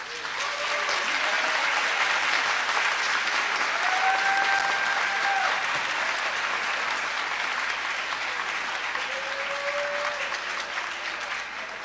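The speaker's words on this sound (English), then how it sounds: "Please give them a round of applause." An audience of families and loved ones applauds graduates at a 2013 nursing pinning ceremony, steady sustained clapping from a large indoor crowd that holds level for the whole span.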